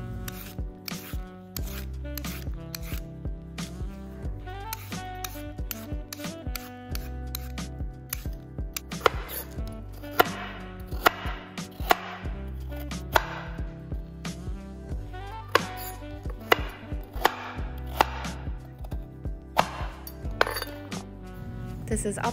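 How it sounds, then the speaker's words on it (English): Carrots are peeled and chopped on a board for a chicken tortilla soup, producing a long run of quick scraping strokes and crisp, irregular knife knocks with occasional clinks. "We're gonna use a peeler to peel the skin off first and then chop them up."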